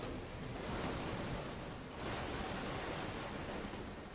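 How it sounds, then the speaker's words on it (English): A binaural drips effect from the Soundiron Rainsong instrument plays as a dense, steady watery hiss, like heavy rain or surf, that swells slightly midway and continues throughout without speech. "And then we have binaural drips."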